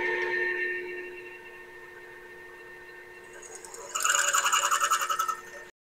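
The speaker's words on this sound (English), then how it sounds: "So I'm going to drill this sleeve out and attempt to sleeve a 5/8 collet down to 9/16." A drill bores out a metal collet sleeve, sizing a 5/8 collet down to 9/16. A steady machine whine fades, then a harsher, louder chattering cut starts near the end and stops abruptly.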